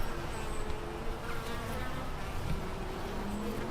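Honeybees buzz steadily at the entrance of a healthy hive with guard bees on duty, a dense continuous drone of many insects close by, with no talking.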